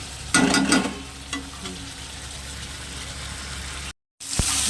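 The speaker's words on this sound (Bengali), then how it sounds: "তো এখন এটাকে ভালো করে কষাবো কষিয়ে জল দিয়ে দেবো" Curry with spices being sautéed and stirred in a pan, a steady frying sizzle with scraping stirs, louder near the start, then a brief gap and a sharp clink at the end.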